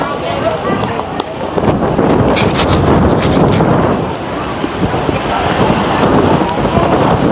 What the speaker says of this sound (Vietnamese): trời gió quá trời gió luôn